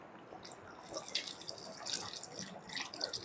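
Tamarind water for an asam pedas stingray dish is poured into a cooking pot, making faint, intermittent splashing and dripping bursts that are quiet and close, with no talk.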